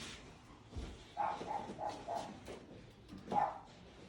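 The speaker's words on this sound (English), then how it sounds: "I have a dog." A guide dog whimpers close by in a series of short, high, whining yelps, a few quick ones in a row, then a louder one after a pause, with no talk.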